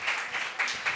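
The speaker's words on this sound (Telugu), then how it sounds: "చప్పట్లు కొట్టండి." A church congregation applauds during a sermon, faint clapping heard from a distance in brief rising waves.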